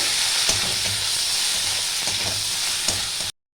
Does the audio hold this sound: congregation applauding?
no